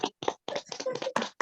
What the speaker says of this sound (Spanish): podemos abrir nuestros micrófonos para poderle dar un aplauso